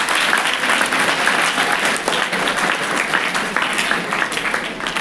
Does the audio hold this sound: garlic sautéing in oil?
no